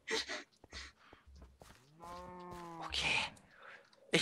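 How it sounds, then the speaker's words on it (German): A cow moos in the video game Minecraft Feed The Beast, one drawn-out tonal moo in the middle, surrounded by voices and other short game sounds. "Ah, eine Kuh."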